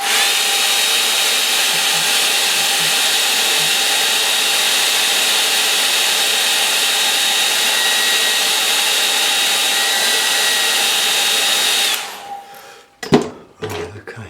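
A hair dryer blows steadily and loudly for about twelve seconds to dry a watercolour painting, then cuts off, leaving a few faint knocks and handling noises.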